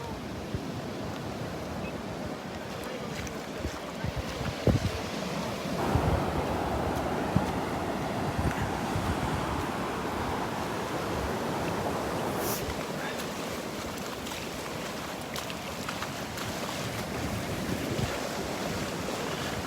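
Ocean surf rolling onto a Gulf beach at Delnor-Wiggins on a morning with the tide coming in, a continuous wash of waves with steady wind buffeting the microphone throughout.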